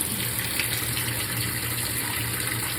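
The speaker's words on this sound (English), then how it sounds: "So we're going to go ahead and let this water run" Water rushing steadily into the drum of a GE top-load washing machine filling for a load of sheets, a constant broadband gush with a low hum underneath, close and unbroken, with no talk.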